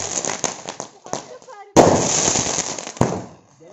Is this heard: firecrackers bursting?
yes